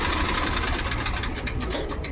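A used tractor's diesel engine runs steadily at a tractor market in Moga, a loud, continuous idling rumble with a rapid knocking pulse and no talk over it.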